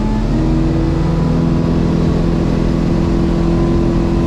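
A loud, steady engine drone runs throughout with a constant hum and wind-like rush, a Duckworth motorboat underway at speed, crossing a wake.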